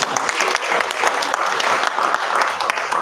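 Audience applause at a community meeting on street-connected children, a steady, fairly distant wash of many hands clapping throughout.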